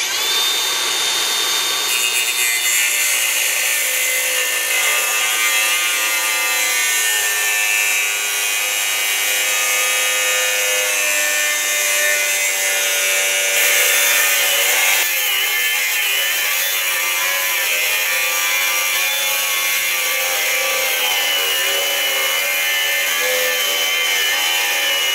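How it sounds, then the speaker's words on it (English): Makita XAG03 18V brushless cordless angle grinder with a cutting disc slicing through 3/4 inch steel plate: a loud, sustained high whine and grinding screech, steady for the whole stretch with a slight shift in pitch partway through. "I can just pop a cutting disc on here and cut right through the 3/4 inch plate"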